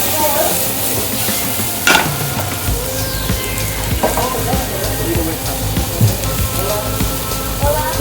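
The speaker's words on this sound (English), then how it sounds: "now we're gonna put our fresh steamed vegetable over here" Fresh steamed vegetables are sautéed in a pan next to searing salmon, giving a continuous loud sizzle with scraping stir strokes and occasional sharper pops.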